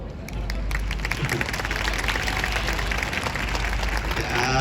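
A festival crowd at a Fiesta de España stage in Yoyogi Park claps along in a dense, steady wash of hand claps with a faint murmur of voices, loud and continuous throughout.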